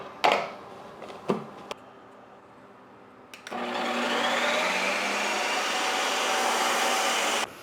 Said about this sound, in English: I'm gonna put this in the creamy to blend up into ice cream